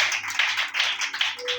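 A church congregation claps in acclamation during a French Mass, a brief burst of close, dense hand claps with a faint tonal hum beneath.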